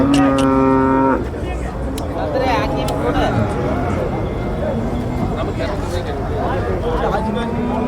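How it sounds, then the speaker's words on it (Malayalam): Bull calves at a busy village market moo loudly and close, one long lowing call opening the scene, followed by further bellows over a constant murmur of crowd chatter and people talking. "രണ്ട് കാളക്കുട്ടികളുണ്ട്"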